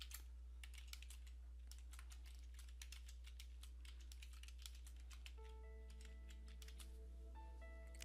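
Computer keyboard typing for an email, a fast, steady run of close, crisp key clicks over a constant low hum, with soft electronic tones toward the end.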